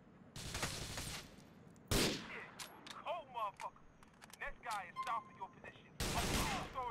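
Gunfire in the video game GTA 4: quiet sharp shots, a burst near the start and another at the end, with short chirpy game sounds scattered between them.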